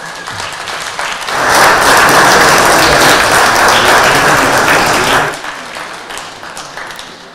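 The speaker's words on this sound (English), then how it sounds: "Please give them a huge round of applause." Loud audience applause at a bridge championship final prize ceremony, swelling after a second into a sustained dense roar of clapping for the winning team, then tapering off toward the end.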